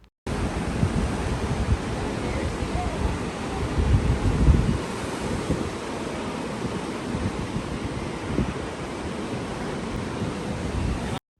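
Ocean surf seen from a hotel balcony rolls as a steady, broad wash of waves with gusty wind rumble on the microphone and no voices.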